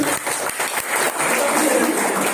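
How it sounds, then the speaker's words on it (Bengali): Audience applause for an honoree at a celebration: dense, steady clapping from a crowd fills the whole moment at moderate loudness, with a few sharper hand claps standing out. "ওনার জন্য জোরদার হাততালি।"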